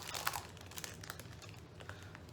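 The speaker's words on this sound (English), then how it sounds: "I'm gonna have to pull on the paper and push down, back on the plate." Paper peels slowly off a cake plate with soft crinkling and faint tearing, quiet and close, in a few short bursts.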